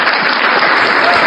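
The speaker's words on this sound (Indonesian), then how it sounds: "Tepuk tangan." An audience breaks into a brief burst of dense, loud clapping with no pause.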